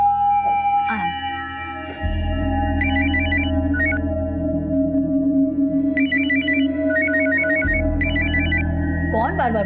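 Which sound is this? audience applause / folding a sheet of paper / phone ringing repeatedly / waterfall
phone ringing repeatedly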